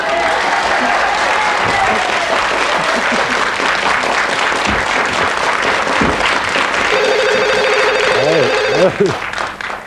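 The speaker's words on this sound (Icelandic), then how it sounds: "Halldóra Gerðarsdóttir, Eggert Þorleifsson, gefið þeim gott klapp." A studio audience on a 1996 Icelandic Saturday-night TV entertainment show gives loud, sustained applause. Voices are heard over it, and a telephone rings briefly near the end.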